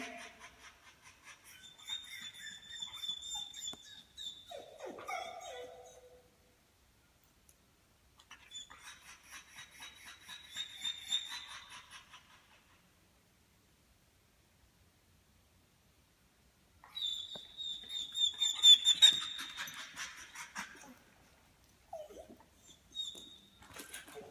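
An excited dog whimpers and yips in high, thin bursts, with three clusters of whining separated by short quiet gaps, fairly close and clear with no talking.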